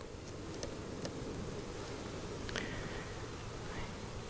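Honey bees hum in a low, steady drone from an opened new hive with a small population, a faint continuous buzz with a few brief clicks and rustles.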